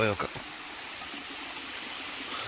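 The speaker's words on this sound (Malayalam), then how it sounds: "അവിടെ നിന്നൊരു ചെറിയൊരു വെള്ളച്ചാട്ടമൊക്കെ വരുന്നുണ്ട്" A small waterfall stream at Guna caves in Kodaikanal gives a continuous soft rushing hiss of flowing water, steady and moderately distant, with a brief voice at the start.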